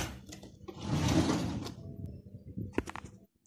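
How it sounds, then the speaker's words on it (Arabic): A drawer in a bedroom is pulled open with a short sliding rumble that swells and then fades, followed by a few light knocks as things settle. "يلا بينا نخش على التاني درج"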